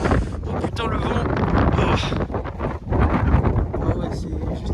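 Strong wind by the sea in Lofoten roars and buffets the microphone in a continuous, loud rush of gusts, with a voice faintly present beneath the noise.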